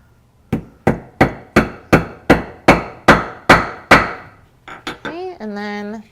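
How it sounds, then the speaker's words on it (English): Ten sharp, evenly spaced hammer strikes set a rivet on a leather tote strap, loud and close, each ringing briefly. A short burst of handling clatter and a tonal scrape follow at the end. "I can work on the bottom rivet."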